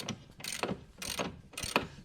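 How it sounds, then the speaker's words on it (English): A socket wrench loosening the 3/4 inch top nut holding a motor, with a few quick ratcheting clicks in short rhythmic strokes, close up and without talking. "So right now we are taking off the top nut that holds the motor on."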